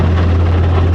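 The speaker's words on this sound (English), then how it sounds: "I'm just staying in ground effect, then I'm going to level the helicopter" A Robinson R22 helicopter hovers in ground effect with a loud, steady low rotor and engine drone throughout and no voices.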